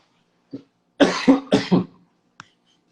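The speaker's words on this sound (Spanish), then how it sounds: "Nosotros todavía con esta tos." A fit of coughing, close by: a faint cough, then two quick pairs of harsh coughs, trailing off into a small throat sound.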